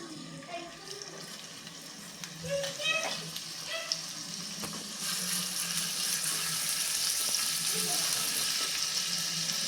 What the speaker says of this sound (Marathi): तेल छान गरम झालं की आता त्यामध्ये खिसलेलं आलं आणि मिरची घालून घेऊयात